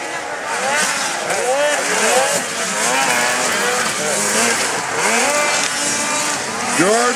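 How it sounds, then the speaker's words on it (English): Race cars in a Ford 600 final roar through a corner in a continuous, loud, wavering engine drone with rising and falling pitch, heard under excited race commentary. "Jordan Friesen in the corner number two."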